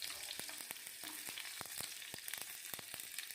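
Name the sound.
mustard seeds sizzling in hot oil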